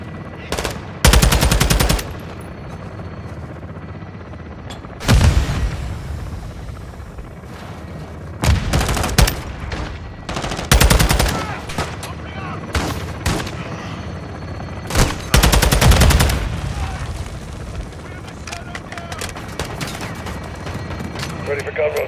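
Heavy bursts of automatic gunfire and booming shots from a military shooter game, Call of Duty: Modern Warfare 2 (2022), come in loud, dense volleys separated by quieter stretches with voices talking over the action.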